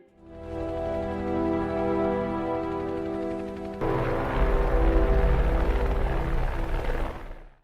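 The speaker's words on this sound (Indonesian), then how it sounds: "ia langsung masuk ke dalam helikopter" A helicopter in a scene from the 2009 film The Thaw gives a steady droning whine that suddenly shifts into a louder, rougher rotor-and-engine roar with deep rumble, continuous and close, with no talking.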